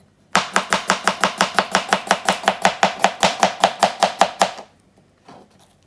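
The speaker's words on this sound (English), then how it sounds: "I like to cut the potatoes really thin so they cook quicker" Knife slicing potatoes thinly on a cutting board, a rapid run of about twenty evenly spaced crisp chops, close and loud, then stopping, with no talking.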